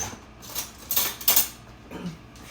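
Metal cutlery clinks close by as a spoon is picked out in a kitchen where stuffed mini peppers are being made, giving a few bright jangling taps spread over a couple of seconds.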